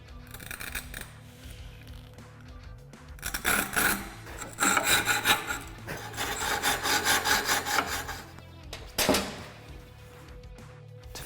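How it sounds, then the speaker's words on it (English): A tungsten carbide saw cuts across a wooden door jamb in bursts of rasping, scraping strokes, with a quieter stretch at the start and a short final stroke near the end. "This is a Tungsten Carbide Saw."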